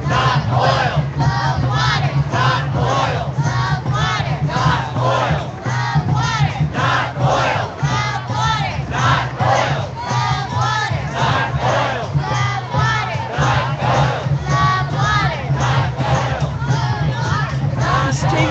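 A large protest march against tar sands and the Keystone XL pipeline in St. Paul chants in loud, steady rhythmic call-and-response bursts, a dense crowd of voices repeating throughout.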